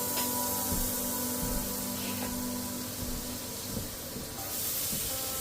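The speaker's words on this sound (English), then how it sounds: "Put some butter in our pan here." Butter heating in a frying pan gives a steady broad hiss and crackle, constant and fairly close with small sputters, and no voice over it.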